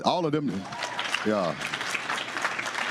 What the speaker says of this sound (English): can y'all give them a round of applause?